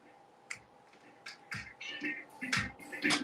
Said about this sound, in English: No, it's clapping.